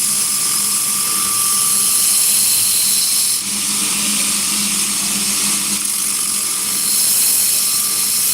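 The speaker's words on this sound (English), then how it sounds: "I'm getting a little dip grind in there" A belt grinder cuts a hollow dip grind into a knife blade, giving a loud, steady, high-pitched whine with a gritty hiss that holds almost unbroken throughout, with only a brief dip, and no voices.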